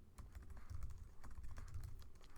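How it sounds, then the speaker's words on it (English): Fingers type on a computer keyboard in a quick, uneven patter of light key clicks that continues steadily and close up, with no talking. "Oops, my typing is not good."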